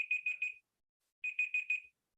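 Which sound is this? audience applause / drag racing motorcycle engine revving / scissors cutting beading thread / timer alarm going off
timer alarm going off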